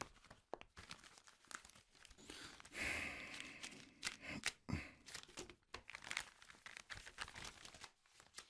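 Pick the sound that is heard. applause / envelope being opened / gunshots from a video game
envelope being opened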